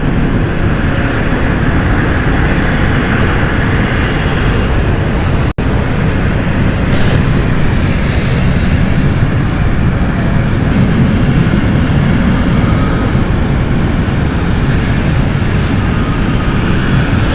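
A fixed-wing aircraft taxis at London City Airport, its engines giving a loud, steady broadband roar throughout, with one brief click partway through.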